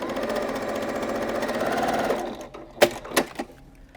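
A sewing machine runs steadily, stitching pieces of quilt fabric, its fast mechanical whir continuous for about two seconds, then stopping and followed by a few clicks and handling sounds.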